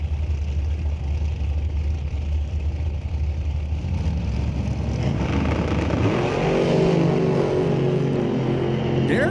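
Drag racers launching down the strip at a doorslammer event, with a blown dragster and another car; loud steady engine roar that swells and rises in pitch around the midpoint as the cars pull away.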